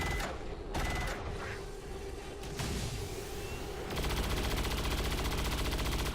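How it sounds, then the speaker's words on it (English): Overwatch gunfire in XCOM 2, a loud, dense burst of rapid automatic shots that runs throughout, growing heavier and more continuous toward the end with no one speaking. "this will run into a wall of Overwatch fire"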